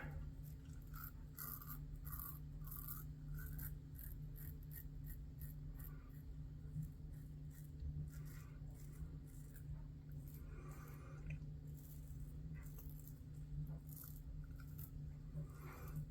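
King C Gillette safety razor with Astra blades dragged over a face lathered with Heritage Hill Sovereignty soap. Repeated close rasping scrape strokes sit over a steady low hum, with no talking.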